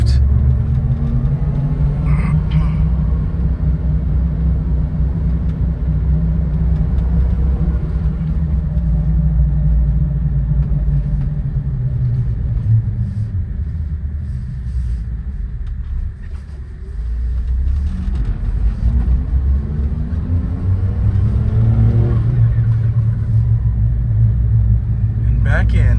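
A 1998 Suzuki Jimny with a turbocharged K6A engine drones loudly from inside the cabin while driving, revving up and easing off through a downshift, with someone talking over the engine.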